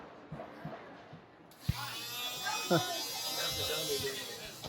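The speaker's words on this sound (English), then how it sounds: "That's the buzzer tool. And folks, this is a real saw." A real power saw in a circus sideshow act starts up with a loud, steady buzzing whine after a quiet opening, cutting into a thin piece of PVC with occasional thumps, while someone talks over it.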